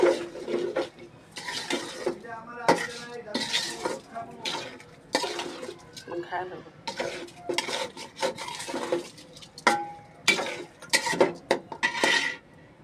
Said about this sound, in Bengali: এখন আম্মু ভালোভাবে একটু নেড়ে দেবে নেড়ে মাংসটার সাথে একবারে মিক্সড করে ফেলবে